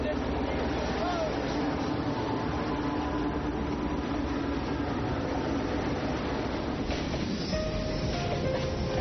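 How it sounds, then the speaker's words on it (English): Trains roll in along the old Silk Road route in Xinjiang, a steady rumbling rail noise with wheel clatter that holds throughout at a moderate distance. "now we've got trains coming in"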